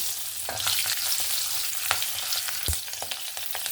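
Panch phoron and slit green chillies fry in hot oil with a strong, continuous crackling sizzle, punctuated by sharp pops and occasional spoon taps against the pan, heard close with no talk.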